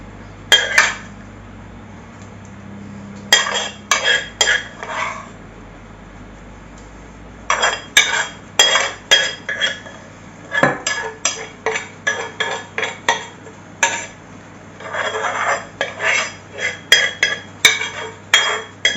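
A utensil clinks and scrapes rhythmically against a sturdy frying pan while spreading meat for lasagna, with rapid repeated metallic taps in clusters and brief pauses, close and loud, with no talking.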